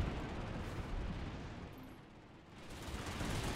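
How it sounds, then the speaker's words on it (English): Sustained gunfire in Planetside 2 aimed at a Liberator aircraft, a dense, steady rumble of shots and battle noise filling the whole stretch with a brief dip midway. "Let's just shoot that Liberator."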